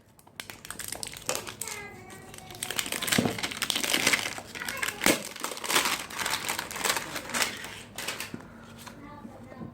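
Packaging for a QMobile Power 4000 phone crinkles and rustles in irregular bursts as it is unboxed by hand, close up, with occasional sharper crackles and soft handling noises.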